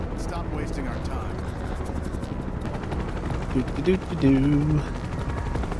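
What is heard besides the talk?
helicopter hovering in Final Fantasy VII Rebirth video game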